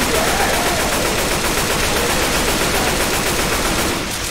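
Dense, continuous automatic gunfire roars at close range while players shoot at the Tank in the zombie shooter Left 4 Dead 2. Rapid shots blur together into a loud, unbroken barrage.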